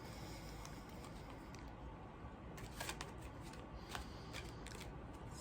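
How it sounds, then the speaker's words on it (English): A deck of cards is shuffled close by, giving quiet riffling bursts and flicks, a few sharper snaps near the end, with no talk over it. "So let's shuffle the deck."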